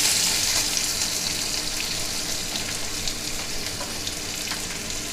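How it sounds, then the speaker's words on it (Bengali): Potatoes fry in oil in a pan for a spinach ghonto, giving a steady close sizzle with faint scraping as they are stirred, continuous and unbroken with no talking. "আলুটা একটু নেড়ে নেব, একটু লাল করে ভেজে নিতে হবে আলুটা।"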